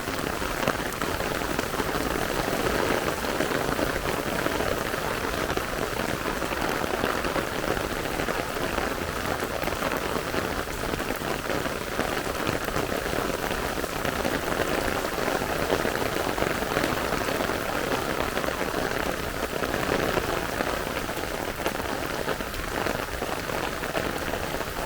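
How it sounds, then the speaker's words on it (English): Steady rain pouring on surfaces along a walk near the White House airport strip in Montego Bay, Jamaica, a dense constant hiss from start to finish with no voices. "It's walking in the rain."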